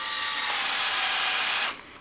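A power drill chuck is tightened onto a bit, making a loud continuous ratcheting whir close up that stops abruptly near the end.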